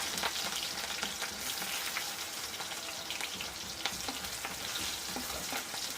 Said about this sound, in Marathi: मी अर्धा चमच जिरा टाकलेला आहे याच्यामध्ये ह्या जाणार आहेत आपल्या तीन चार मिरच्या टाकलेल्या मस्त फोडणी बसते याला